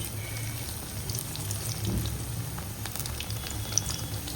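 Bhajiya fritters fry in a kadai with a soft, steady crackling sizzle, fairly faint and continuous against a low background hum, with no talking.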